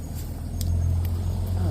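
A loud truck rolls past close by, its deep engine rumble swelling and holding steady, with a faint voice in the background.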